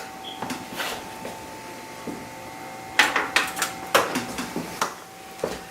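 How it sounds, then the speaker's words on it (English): A metal pot set down on a home stove fitted with a servo-driven safety mechanism, giving a cluster of close, sharp clanks and scrapes around the middle of the clip over a steady electrical hum. "I'm going to place this pot on the stove"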